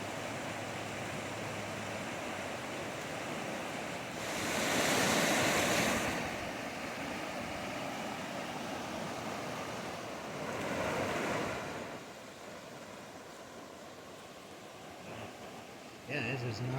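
Monsoon floodwater rushes through a desert wash and spills well over the bank, a steady, loud broadband roar mixed with wind buffeting the microphone, swelling twice in strong surges.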